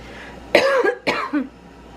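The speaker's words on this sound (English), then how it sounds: "I cough much less now" Two sharp, dry coughs in quick succession, close and loud, with brief quiet before and after.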